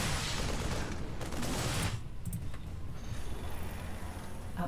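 Units exchange fire in the real-time strategy game StarCraft 2, a dense, continuous fusillade of rapid shots and mechanical clatter that stays loud throughout, dipping briefly midway before resuming.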